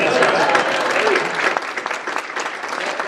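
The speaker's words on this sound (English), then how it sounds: "I want a round of applause for that." Audience applause at a rural healthcare public policy forum: a steady round of clapping from a seated crowd, fairly loud and continuous, thinning a little near the end.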